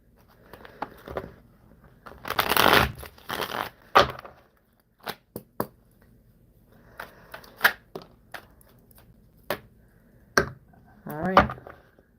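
A brand new tarot deck being shuffled by hand, with bursts of riffling and soft card slaps separated by short pauses, close and fairly quiet in a calm room.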